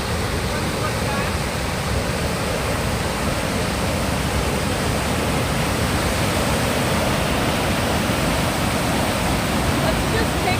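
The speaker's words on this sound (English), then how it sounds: "Let's just take a moment of listening to the water" Steady rushing water flows continuously beside a mountain hiking trail, a broad, even whoosh like a nearby stream or small waterfall that fills the whole stretch without pause.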